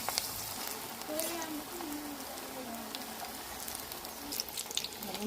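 Okra vada frying in hot oil, a steady bubbling sizzle with crackling pops throughout, moderately faint, with faint tonal background sounds and no clear talk.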